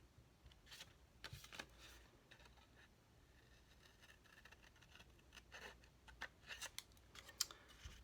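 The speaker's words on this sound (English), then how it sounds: "I'm just going to cut along the score lines on 2 sides" Scissors snip through patterned paper along score lines while a small box is being made, giving soft, close crisp cuts in irregular bursts with quiet paper handling between them.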